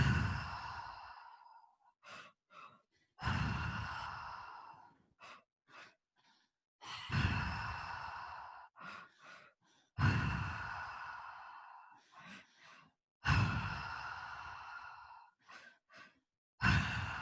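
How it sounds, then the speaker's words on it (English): Strong, forceful breaths during a breathwork exercise, with five long loud exhalations repeating every three seconds or so, each followed by short quick intakes, close and clear with no talking. "Keeping the breath nice and strong."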